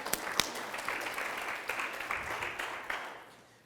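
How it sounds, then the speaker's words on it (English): An audience at a customer-experience talk claps in a round of applause. Several sharp individual claps stand out over a dense patter that holds steady, then fades out toward the end. "let's give a round of applause for her to share that."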